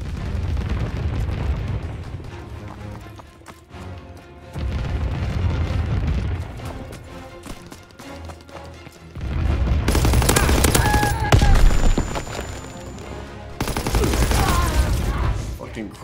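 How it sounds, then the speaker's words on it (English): Anti-aircraft battery fire in Call of Duty WWII: loud sustained bursts of flak and heavy gunfire in rolling waves, with explosions and game voices over the din. "Anti-aircraft bursts commenced."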